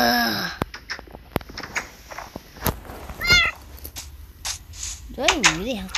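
A Minecraft cat meows in short rising-falling calls within the game, with other game sounds and clicks around, while a person talks nearby over the meows.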